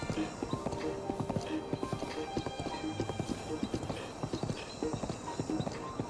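Rhythmic hoofbeats clop steadily at a gallop, with a horse whinnying over them, from the video game Zelda: Breath of the Wild; fairly close and consistent.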